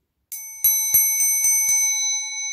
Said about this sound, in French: Si tu n'as pas actionné la petite cloche, ding dong, ding dong, ding dong